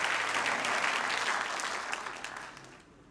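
A church congregation at a worship service breaks into dense, lively applause that gradually fades out over a few seconds.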